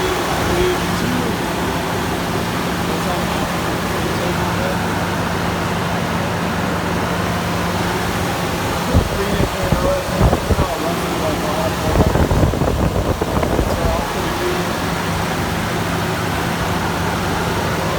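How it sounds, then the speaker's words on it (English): A 2001 Toyota 4Runner 4x4 engine idles with a steady low rumble under windy, breezy noise. Two short bursts of louder rustling or handling stand out midway. "My phone does pick up the small engine noise"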